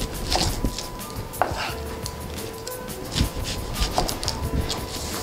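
A knife trims both ends off a red onion on a cutting board, giving several sharp cutting knocks over a busy kitchen background with a steady hum and scattered clinks, close and moderately loud.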